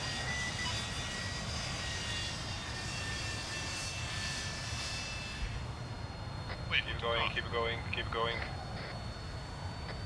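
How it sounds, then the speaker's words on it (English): Aircraft engines spooling up for takeoff during STOL training aboard an LHD in ArmA 3, a steady loud roar with whining tones throughout, and radio-style voices talking over the latter half. "Let's fucking take off now."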